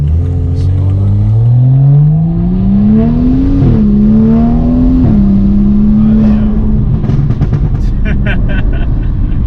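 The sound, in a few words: tuned BMW 335i N55 car accelerating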